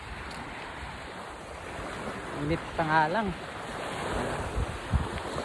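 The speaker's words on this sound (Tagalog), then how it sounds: "Ito na yung tabing dagat." Waves wash gently onto a seashore in a steady, moderate hiss under wind, while a person briefly speaks partway through.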